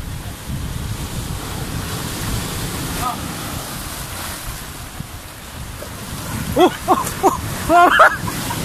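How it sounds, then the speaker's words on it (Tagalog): Strong ocean waves surge and wash at Bato-Bato Beach in Ternate, Cavite, as a continuous loud roar mixed with gusting wind, and voices call out near the end. "Lakas yung alon."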